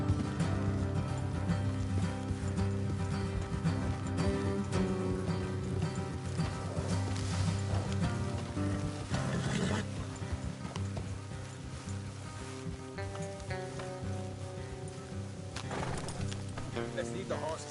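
Horses ride at a steady pace in the video game Red Dead Redemption II, with continuous hoof clip-clops and an occasional snort mixed under game music and talking voices.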